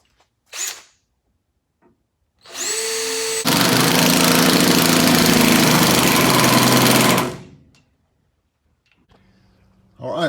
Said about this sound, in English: Try to drill this out here real quick